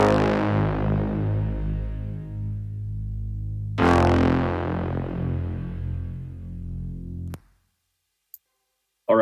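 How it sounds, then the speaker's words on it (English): Synthesized mid and top bass notes from a remix drop ring out in two long, loud, sustained hits that decay slowly. A sudden cut into near silence follows, and a short blip comes at the very end. "I added all these mid and top basses with it that sound like this"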